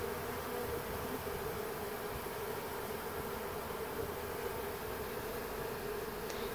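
A swarm of honey bees moving into an empty hive box makes a continuous, even buzzing drone, dense and unbroken throughout, with no voices.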